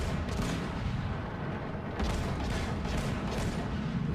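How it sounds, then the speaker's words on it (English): Naval gunfire from warships in the World of Warships video game, a continuous loud rumble of heavy booms rolling into one another, dense and sustained with no voices. "I'm firing over the island onto the Kiev"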